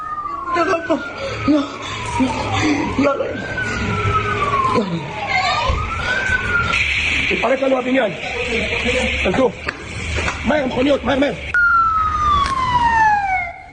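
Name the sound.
fire brigade vehicles arriving with sirens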